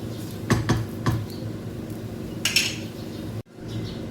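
A utensil scrapes and clinks a few times against a pan while stuffed eggplants are stirred, with scattered short metallic knocks over a low cooking hum, fairly quiet and close.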